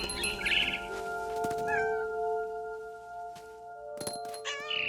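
A cat meows in What Remains of Edith Finch, a couple of short, close mews breaking through a steady tonal musical backdrop with soft chiming notes, no talking.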